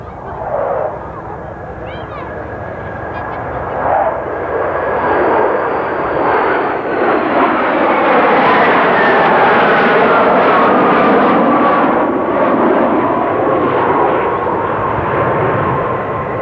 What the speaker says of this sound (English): the four F-4 Phantom 2s, McDonnell Douglas Phantom 2s. And a diamond formation coming in from your right.